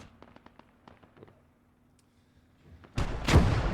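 Howitzer artillery fire in the World War II strategy game Gates of Hell: Ostfront: faint scattered clicks, then a single loud, booming blast that rumbles out at the end.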